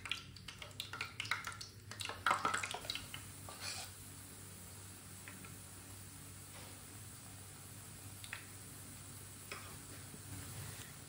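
Spoonfuls of besan bhalle batter frying in hot oil, a quiet sizzle with a few louder bubbling bursts at the start, then a faint steady fry over low background hum.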